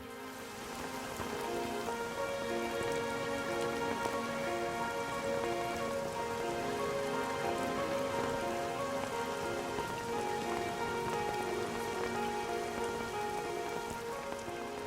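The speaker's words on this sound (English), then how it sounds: "it really was quite a downpour" Heavy rain pouring down during a motorcycle road race on the Isle of Man, a dense steady hiss of drops hitting surfaces, constant and enveloping from start to finish, with no voices.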